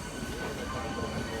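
A train rumbles past near Howrah Junction, a steady, moderately loud rolling roar of wheels on rails for a brief moment.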